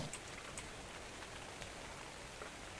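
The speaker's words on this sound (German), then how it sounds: "Da regnet es zwar auch ein bisschen durch" Rain in the video game ARK Survival Evolved drips through a roof as a faint, steady hiss with scattered soft droplet taps throughout.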